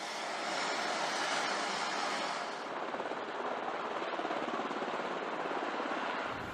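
A U.S. Coast Guard MH-60 Jayhawk rescue helicopter drones steadily and loudly throughout, a dense rotor and turbine roar with fast chopping pulses and no voices.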